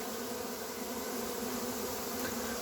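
A swarm of about four pounds of honeybees leaving their hive makes a dense, continuous buzzing that is steady and moderately loud throughout, with no voices.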